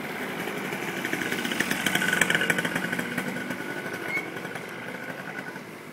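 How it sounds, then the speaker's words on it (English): A small two-stroke moped engine in Korea buzzes steadily, swelling louder as it passes close by and then easing slightly as it moves on. "Think there's a moped about to run us over?"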